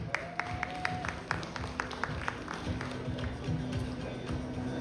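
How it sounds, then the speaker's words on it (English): Applause at a Reina Filipinas pageant press conference: a scattered patter of hand claps from a modest crowd, continuing steadily at moderate distance with some tonal background noise. "All right, another big round of applause,"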